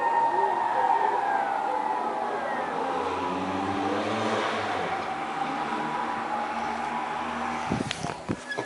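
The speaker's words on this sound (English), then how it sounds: "there's like a shitload of sirens of all types. Ambulance, one kind of sounded like a fire hydrant? Fire siren." Several emergency sirens, ambulance and fire engine among them, wail with rising and falling tones over steady street traffic, with a sharp burst of noise near the end.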